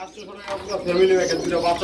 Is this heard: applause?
no